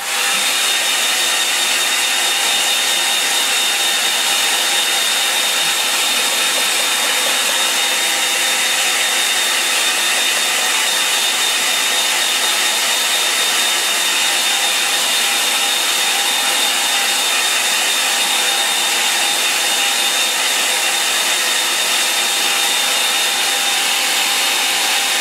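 A hair dryer blows steadily over a watercolour painting of an autumn scene, a loud, unbroken hissing whoosh of air that holds at constant level throughout with no talk.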